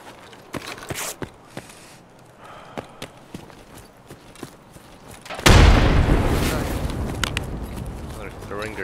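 A grenade explosion in the video game Escape from Tarkov erupts as a loud, sudden boom, followed by a lingering roar and debris rumble. Earlier there are scattered sharp footstep-like thuds and brief speech.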